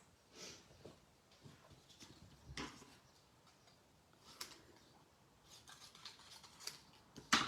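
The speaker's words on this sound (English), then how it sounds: "I need my big scissors to trim around this." Big scissors trimming a stamped paper card, a series of faint, sparse snips and clicks spaced irregularly in a quiet room.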